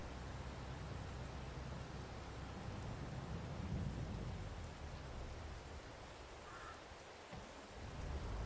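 Steady rain hisses alongside low rumbling thunder during a farm harvest in Farming Simulator 22, a continuous wash of faint noise with no talk.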